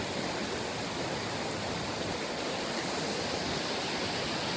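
Steady rushing water of a creek flowing at Duke's Creek Park near Helen, Georgia, a continuous broadband wash with no breaks, close and fairly loud.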